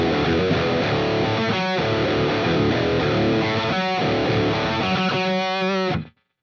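Heavily distorted electric guitar played through a Nux B-5RC wireless system chugs and rings through crunchy power chords with a few muted stabs, loud and dense, then cuts off abruptly.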